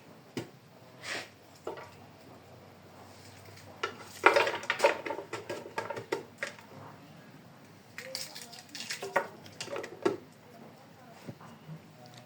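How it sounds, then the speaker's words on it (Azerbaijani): Chopped onion tipped into a cooking pot for Azerbaijani buğlama: light clatters and knocks of a utensil against the pot, louder in a brief middle stretch, with quiet kitchen sounds and a voice speaking in the background. "Birinci kötüye soğan atırıq biraz"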